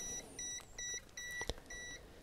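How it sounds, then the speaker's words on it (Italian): A Kaiweets HT118A multimeter's voltage detector buzzer sounds a series of repeated beeps in short, evenly spaced bursts, close and fairly clear, with no talking. "luce verde e cicalino a frequenza meno elevata"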